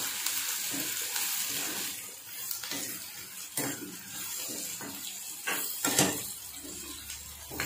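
Spices with cumin powder are stirred in a frying pan, a soft sizzle punctuated by repeated scraping strokes of a spoon against the pan at an uneven rhythm, close by.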